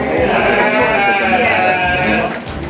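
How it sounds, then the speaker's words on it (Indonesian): A pen holding about 700 sheep, dense overlapping bleats forming a loud continuous chorus, close and filling the space with no break. "Jadi di seluruh kandang ini seperti yang saya sampaikan tadi itu ada 700 domba."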